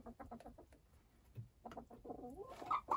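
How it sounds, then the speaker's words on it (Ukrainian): A rooster crows close by, its call rising to a strained, high-pitched finish, with short clucking sounds before it. "Ну, от півень"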